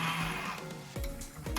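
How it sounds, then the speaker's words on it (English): A hand blender whirs through chunks of tomato for pasta sauce, a close, steady motor drone whose pitch wobbles briefly as the blade catches the pieces. "Now we just blend it up a little bit."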